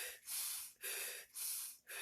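Slow deep breaths taken during an emotion-processing exercise, four long airy inhale-exhale cycles in a steady rhythm, close and fairly quiet, with no talking.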